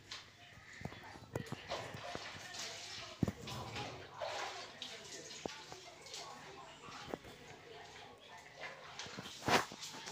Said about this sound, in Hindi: ये मग से ब्लैंकेट के ऊपर डाल डाल कर और इसको धुलूँगी